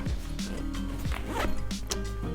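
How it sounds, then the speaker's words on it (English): An expansion zipper on the front of a Chrome Industries Macheto 2.0 travel backpack is pulled open in a few quick rasping runs, close and fairly loud. "The expansion zipper is on the front."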